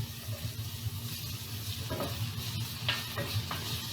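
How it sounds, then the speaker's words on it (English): Sofrito and tomatoes sautéing in a pan for chile relleno filling, a steady close sizzle with soft stirring scrapes and occasional brief clinks, no voices. "So I am sauteing this"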